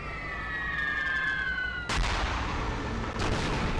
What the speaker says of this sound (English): More dive bombers.